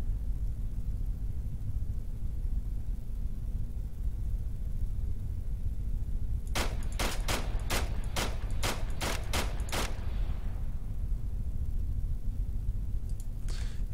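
Gunfire in a military video game, a tight burst of about eight sharp shots in quick succession over a steady low rumble of ambience, fading into quiet afterward.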